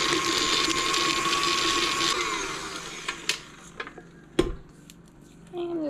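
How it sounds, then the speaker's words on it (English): An electric mixer beats cold cream cheese in a bowl, a steady loud whirring drone that slows and stops, followed by scattered scraping clinks against the bowl. "So I'm going to beat this cream cheese for a little bit because it is cold."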